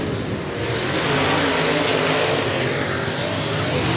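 Race cars roar down the back straightaway on the final lap of an A-Main at Central Missouri Speedway, a loud, continuous blend of engines passing nearby with no voices.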